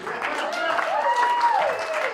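Brief, fairly dense clapping from wedding guests, heard under a raised voice addressing the crowd.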